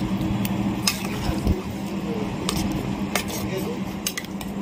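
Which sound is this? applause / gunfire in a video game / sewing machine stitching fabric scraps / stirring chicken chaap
stirring chicken chaap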